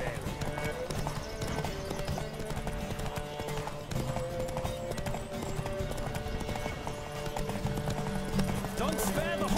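A horse gallops in a race in the game The Witcher 3, with continuous rapid hoofbeats close and loud throughout, under music and voices.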